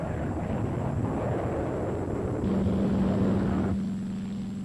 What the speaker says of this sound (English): Carrier-based helicopters hover nearby for quick rescue work in case of accident.